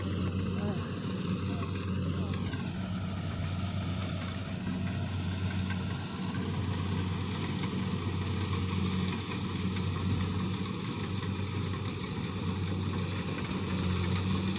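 A rice harvesting machine's engine runs steadily in a paddy field, a loud continuous mechanical drone with a constant low hum throughout, and no breaks.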